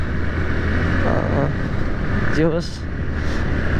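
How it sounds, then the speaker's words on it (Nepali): Motorcycle ridden along a road in the morning after leaving the highway, its engine a loud, steady drone under wind noise throughout, with someone speaking briefly over it. "बाइक कुदाउन चाहिँ मजा आएको छ बिहान बिहान है।"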